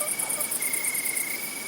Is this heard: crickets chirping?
yes